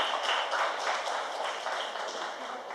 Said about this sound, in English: But a big round of applause for all the people who participated.